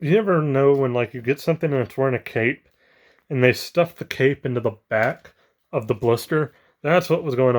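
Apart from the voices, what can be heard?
None of the usual background noises is heard.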